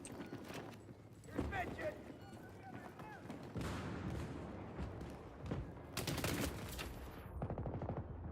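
Bursts of gunfire crackle through a Battlefield 3 PC match, with scattered shots and rapid volleys rising and falling over ongoing battle noise while someone talks over the action.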